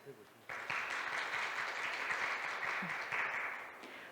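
An audience at a statistics workshop applauds a presenter being introduced. The clapping starts suddenly, holds steady at moderate loudness for about three seconds, then fades out.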